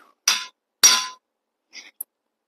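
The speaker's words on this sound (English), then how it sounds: "Get the old trusty hammer." Two sharp metallic hammer blows on a cone-centered part of a cheap Chinese-built LS V8 engine, close and loud, followed by a faint light clink.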